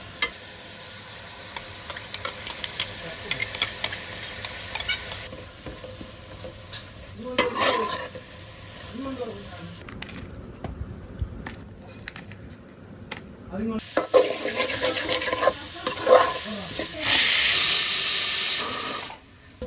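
Ingredients for a beef curry are sautéed with salt in a pan, with repeated stirring scrapes over a soft sizzle that rises louder toward the end, while people talk intermittently.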